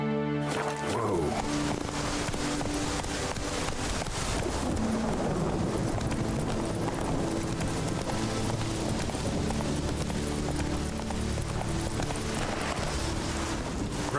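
Roach the horse galloping in The Witcher 3, rhythmic hoofbeats running steadily under a busy, loud game soundscape with music and ambient noise throughout.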